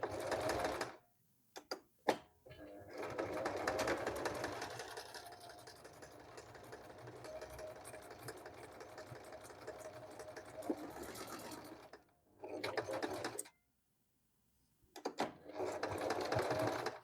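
Singer M3335 household sewing machine running a straight stitch through fabric, a fast steady mechanical whir in several bursts with short pauses between, close and fairly quiet.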